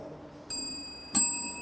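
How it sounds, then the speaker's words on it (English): Quiz contestants test their buzzer bells at a Bible quiz competition, two separate bright metallic rings, one then a second louder one, each ringing out and decaying in an otherwise quiet room. "You may want to try your bells."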